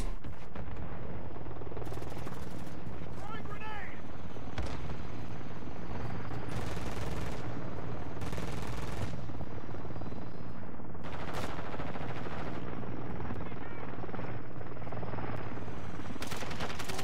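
Killstreak attack helicopter rotors thump steadily in Call of Duty Warzone 2 while bursts of automatic gunfire and explosions crackle throughout, loud and dense with only short lulls.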